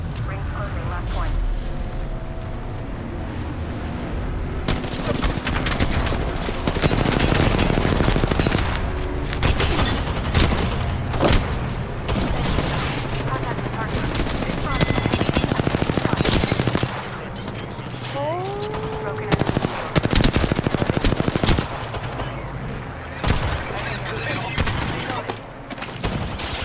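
Gunfire in the battle royale shooter Apex Legends, with sustained bursts of automatic fire and sharp shots during a ranked match, loud and continuous under excited talk from a player.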